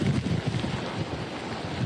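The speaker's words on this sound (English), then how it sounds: "The winds here, wind gusts, I'm told, are over 100 miles an hour." Hurricane winds gusting over 100 mph in Florida's Big Bend area, a loud continuous roar of wind buffeting the microphone with deep rumbling surges, heard alone with no voices.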